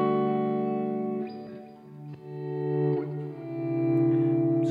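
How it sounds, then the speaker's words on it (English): Electric guitar chords played through an auto volume echo pedal swell in softly without attack, each chord blooming and overlapping with repeating delay tails, a few changes over several seconds, clean and alone. "So first one I've got here is an auto volume echo"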